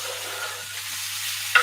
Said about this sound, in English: I'm pouring in the tomatoes in. Hear that tomato sizzle.